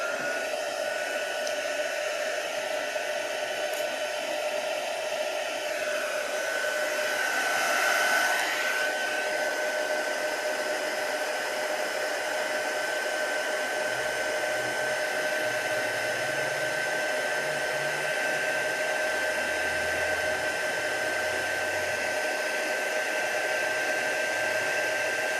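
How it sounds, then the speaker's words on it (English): A steady, loud whooshing blow of a heat embossing gun runs continuously without pause, a constant airy roar with no voices. "now it's time for heat embossing, and it's just gonna take a minute, but it might be loud"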